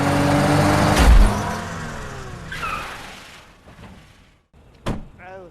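A film scene with a black sedan: a heavy car door thud, an engine hum that fades, then another sharp knock near the end, with a brief voice in between.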